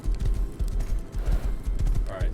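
A horse in the survival video game Rust clip-clops along in a quick, steady rhythm of close hoof thuds, with a voice briefly audible alongside.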